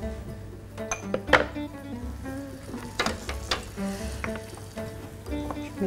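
Grated onion sizzles in olive oil in a pan, a steady close frying hiss broken by clinks and taps of a utensil against the pan.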